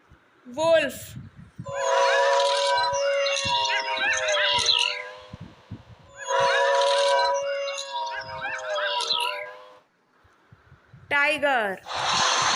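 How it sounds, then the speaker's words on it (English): Several wolves howl together in overlapping, sustained, wavering tones, in two long choruses separated by a short gap, with a brief sharper yelp at the start and a burst of higher cries near the end. "Wolf."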